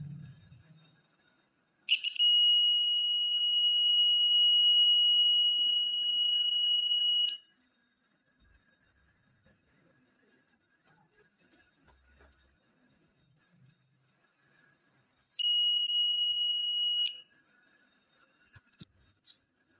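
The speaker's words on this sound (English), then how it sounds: "when I connect green and white wire, then buzzer and green LED will be on" A homemade NE555 continuity tester buzzer sounds when its probe wires touch, giving a steady high-pitched tone for about five seconds, then falling silent before a second shorter buzz, loud and close in a quiet room.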